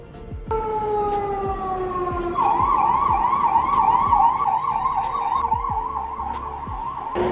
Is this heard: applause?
no